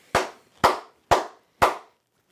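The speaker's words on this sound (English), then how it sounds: "Clap it up." Four loud, crisp hand claps close to the mic, evenly spaced about half a second apart, each with a short ringing tail and silence between.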